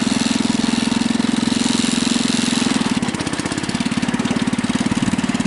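A Husky 600 engine running in third gear, a loud, steady drone that shifts into a stronger, pulsing throb partway through, heard alone with no talking.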